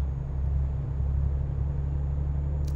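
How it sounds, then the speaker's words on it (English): In Euro Truck Simulator 2, cars pass on a road beside a truck, heard as a steady low engine and road rumble with a faint swell of passing traffic near the end. "Cars."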